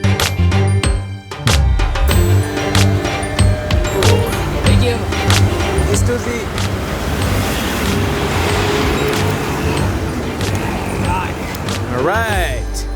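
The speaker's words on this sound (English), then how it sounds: "Tuk-tuk ride complete, ladies and gentlemen." A tuk-tuk rides through busy Colombo streets, its small engine buzzing under traffic rumble, passing vehicles and a horn, with people talking over the ride throughout.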